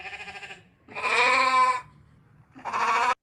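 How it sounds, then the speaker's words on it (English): Sheep bleating in two loud, drawn-out calls, with a softer bleat at the start, close by and clear against a quiet background. "Almost sound like sheep."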